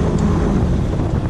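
A warm gyrocopter engine idles on a field before take-off, a steady, loud, low rumble mixed with buffeting wind noise throughout.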